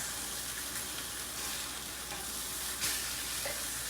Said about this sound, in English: Getting a nice crispy top to this.